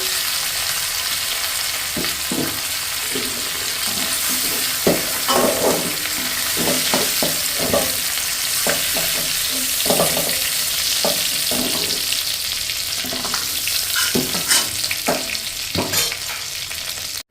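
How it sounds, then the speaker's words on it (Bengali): Cauliflower florets fry in oil in a wok, giving a steady loud sizzle with repeated scrapes and stirs of a utensil throughout, no talking. "তো ফুলকপিটা আমার ভাজা হয়ে গেছে এটাকে নামিয়ে দেব খুব বেশি ভাজবো না"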